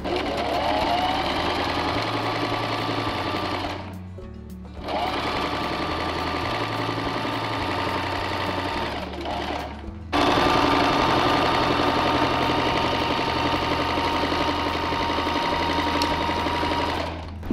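A sewing machine stitches together the front pieces of a loose, elastic-waisted trouser pocket, running in long steady bursts with two short pauses, close and loud with its motor hum and rapid needle clatter.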